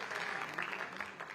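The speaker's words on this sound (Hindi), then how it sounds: "जोरदार तालियां होनी चाहिए इसके लिए।" An audience at a political stage event in Haryana applauds, a short, faint, steady wash of many hands clapping at a distance, with no pause through the burst.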